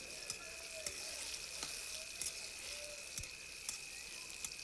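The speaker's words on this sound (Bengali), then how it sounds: "এখন আমি আগে থেকে মেখে রাখা বেগুনগুলো তেলের উপরে কয়েক মিনিটের জন্য ভেজে নিচ্ছি।" Marinated eggplant frying in oil gives a faint, steady sizzle with soft spitting pops scattered throughout, and no one speaks.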